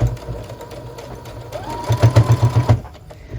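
Sewing machine stitching and back stitching a tote bag pocket, a quiet hum that breaks into a fast run of rhythmic close stitching thumps before stopping.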